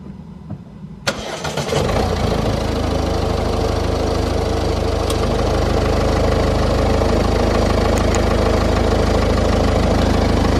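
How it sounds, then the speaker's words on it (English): A car's A/C compressor kicks on with a sharp onset about a second in, followed by a steady, loud engine-and-compressor drone that holds evenly to the end with no talk. "hopefully you hear then that the compressor cycled and it's now working"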